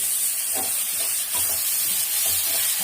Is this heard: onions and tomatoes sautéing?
yes